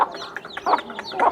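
Chickens cluck close by in quick, clipped bursts, several short calls following each other in under two seconds.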